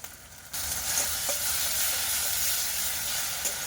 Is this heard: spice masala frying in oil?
yes